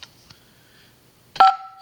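A phone keypad dials to disarm a home security system: two faint short tones, then after a pause one loud, clear tone that rings on briefly, close and with no talk over it.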